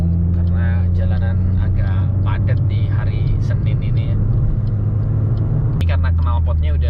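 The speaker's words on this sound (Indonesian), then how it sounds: "knalpotnya udah diganti racing, jadi suaranya agak berisik sedikit" A Suzuki Swift Sport with an aftermarket racing exhaust drones with a loud, steady low rumble from inside the car in Monday city traffic, its tone shifting briefly near the end, while people talk over it.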